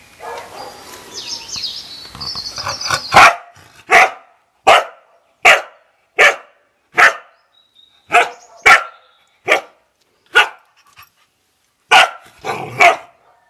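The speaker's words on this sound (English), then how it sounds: "We've got Bobby barking now." A dog barks repeatedly in a steady rhythm, about a dozen sharp, loud barks close by, after some faint bird chirps at the start.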